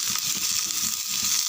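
Onions sautéing in a pan with green chillies for a coconut-free thanni chutney, giving a steady, close sizzle with faint stirring scrapes running through the clip.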